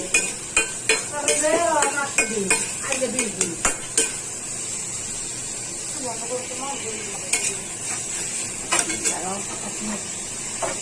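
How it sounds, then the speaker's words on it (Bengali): Potato pieces fry and get stirred in a pan with a little oil as part of a homemade vegetable dish, giving a steady sizzle. A spoon scrapes and clinks against the pan in repeated bursts throughout. "এখন আমি এক এক করে সবজি দিব, আলু দিব। আগে একটু আলুটা কষাই নি।"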